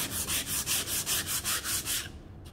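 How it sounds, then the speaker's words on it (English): Sandpaper rubs back and forth over the inside of a wooden pencil box lid in about eight even, rhythmic strokes, close and gritty, before trailing off. "I'm going to sand the inside of my lid"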